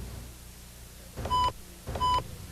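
A phone keypad gives two short electronic tones as the pound key is pressed twice, about half a second apart, over a faint line hiss.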